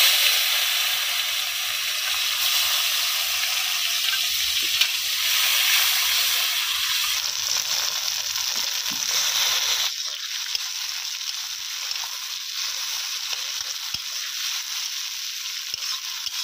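Onion pieces dropped into hot oil with cumin in a wok give a strong, steady hiss and sizzle that settles slightly quieter partway through, with faint stirring.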